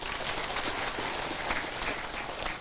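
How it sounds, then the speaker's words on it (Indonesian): A crowd at an outdoor Islamic tabligh akbar gathering claps during a sermon, a soft, steady wash of many hands that sounds distant and evenly spread. "Tepuk tangan semua."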